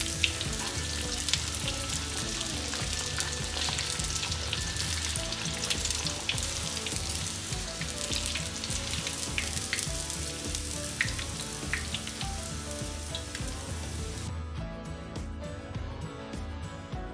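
A German schnitzel, just flipped, fries in a pan with a steady, dense sizzle that runs loud and close for about fourteen seconds before quieting and thinning toward the end.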